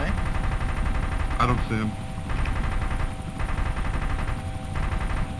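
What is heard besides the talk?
gunfire from a helicopter in Arma 2: DayZ Mod video game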